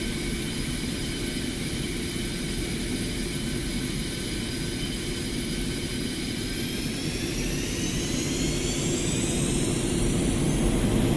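Twin jet engines run at full takeoff thrust in a DCS combat flight simulator game, a steady loud roar with high whine tones that rise in pitch over the final seconds, with no talk.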